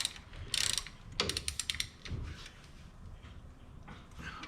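A ratchet wrench clicks rapidly in two short bursts while torquing bolts on a Polaris RZR CV axle, with metallic handling clunks between them, close and fairly quiet.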